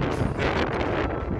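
Gusting wind on an open mountain trail toward the summit of Mount Raung, roaring steadily and close against the microphone with no break across the whole stretch.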